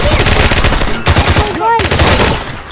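Rapid automatic gunfire in the video game S.T.A.L.K.E.R., dense repeated loud bursts with brief breaks, mixed with shouting voices.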